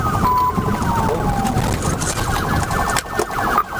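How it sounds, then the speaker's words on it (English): Florida Highway Patrol sirens wail and warble loudly at night during a chase, rapid oscillating tones rising and falling over rumbling traffic noise. "Florida Highway Patrol joined the chase, lights flashing, sirens piercing the night"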